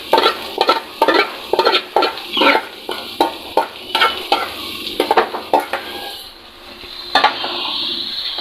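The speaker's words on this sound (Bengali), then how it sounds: "পেঁয়াজ, রসুন, আদা, কাঁচামরিচ সবই একটু লাল লাল করে ভাজা হয়ে গেছে" Onion, garlic, ginger and green chili frying in a pan, with a steady low sizzle under repeated close spatula scrapes and stirs against the metal, the scraping stopping near the end while the sizzle continues alone.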